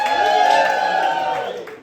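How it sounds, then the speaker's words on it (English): A comedy club audience cheers and whoops for women, a loud, sustained burst of crowd shouting and clapping that tapers off near the end. "Give us a cheer for women!"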